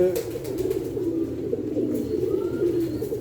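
Low, throaty pigeon cooing rolls on steadily and close by for the whole stretch, with someone speaking faintly over it at times.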